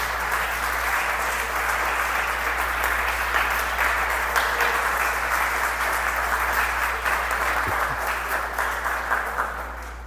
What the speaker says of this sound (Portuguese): Dá um forte aplauso a Jesus.